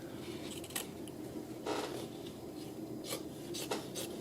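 Scissors snip and rasp as they trim a fabric seam allowance on a quilting block, giving a few short, close cutting strokes spaced apart over a quiet background.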